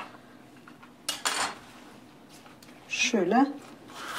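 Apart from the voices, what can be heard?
cutting red cabbage thinly with a serrated knife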